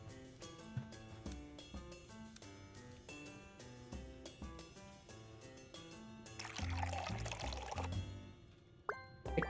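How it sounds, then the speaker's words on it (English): Liquid pours into a glass while a drink is served in the Magic Inn video game, a burst of splashing fill in the latter half over chill background music with chime-like notes. "Pour."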